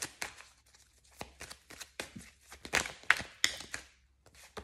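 Tarot cards being shuffled for a reading: a series of crisp, papery riffles and slaps in uneven bursts, close up, with no talking.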